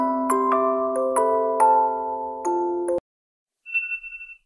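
An alarm plays a bright chiming ringtone melody of bell-like notes for about three seconds, then cuts off abruptly; after a short silence, a thin high electronic beep warbles briefly.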